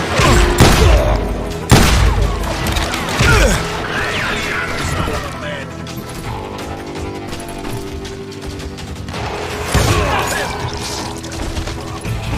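A mean shotgun blasts repeatedly in a video game, loud booming shots landing close and in bursts over a busy backdrop of clanking, crashing effects and game music.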